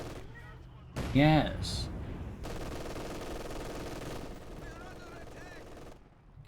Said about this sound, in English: So at MG42 they're going at it.